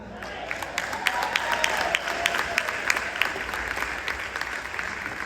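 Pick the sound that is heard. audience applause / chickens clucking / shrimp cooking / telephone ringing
audience applause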